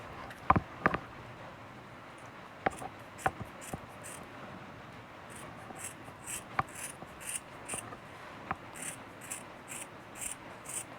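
Scissors cut through a jacket sleeve along a marked shape, making quiet, close, irregular snips and rasping scrapes of fabric.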